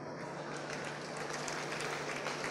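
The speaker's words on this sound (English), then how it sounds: "Please clap for me." Audience applause, a short burst of dense clapping from a crowd that holds steady for a couple of seconds.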